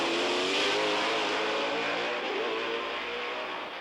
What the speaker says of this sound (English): As the race progresses, Rowe's lead extends